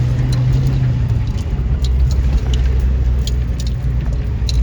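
A car drives along a newly built mountain road in Himachal, its engine a steady low rumble with road noise throughout and faint rattles and clinks from inside the cabin.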